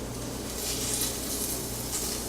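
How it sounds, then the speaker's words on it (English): A steak set into a hot air fryer basket sizzles steadily, with a dense, even hiss of frying held at a constant level for a couple of seconds and no talk over it. "And you'll hear the sizzle."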